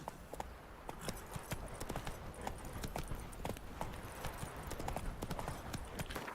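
Horse hooves pound in a steady galloping rhythm in The Witcher 3, a continuous run of quick, sharp clip-clops at moderate level with no talking over them.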